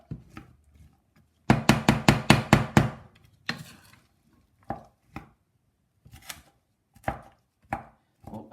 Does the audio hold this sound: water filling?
no